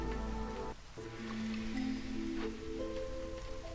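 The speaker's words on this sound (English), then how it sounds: "But boy, the rain is getting terrible." Game rain keeps up a steady patter on surfaces, with a droning musical score and a few soft tones over it and no one talking.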